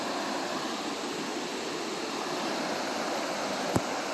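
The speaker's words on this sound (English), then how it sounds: "I can see the rapids or the falls finally" Rapids or a waterfall seen from a rocky ledge at a backcountry campsite, a steady broadband rush of water that stays even and fairly loud throughout, with one brief knock near the end.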